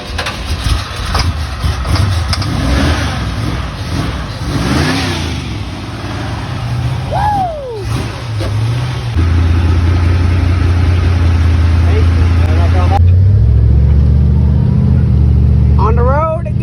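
A 1971 Dodge Charger Super Bee's engine runs steadily after a jump start, a loud low idle that deepens and grows fuller midway, with a voice talking over it early on.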